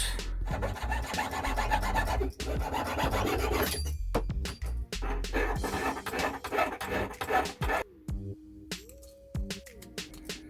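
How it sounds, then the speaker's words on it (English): A fine saw rasps through metal in quick back-and-forth strokes, cutting out the inside of a domed pendant, close up, breaking into short pauses and scattered scrapes toward the end. "and then we'll saw the inside out"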